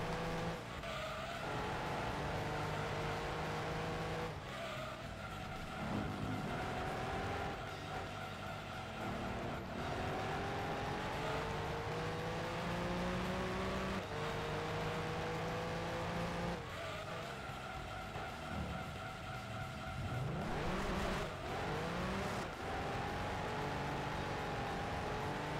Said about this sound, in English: This car has a loud engine